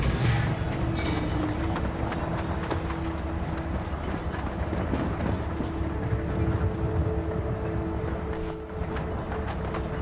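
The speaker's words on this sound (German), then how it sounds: "dann schalten wir mal den Zug an" A train in the Voidtrain video game starts up and rolls forward with a steady, loud rumble and clatter that carries through the whole stretch, with faint tonal hums on top.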